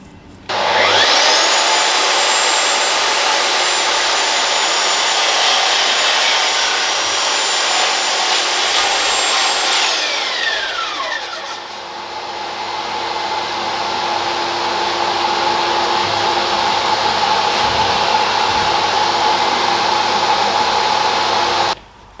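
A Mafell MKS130EC circular saw with a 130 mm depth of cut, hooked to a dust extractor, spins up with a high whine and cuts through wood before winding down, the vacuum droning on afterward.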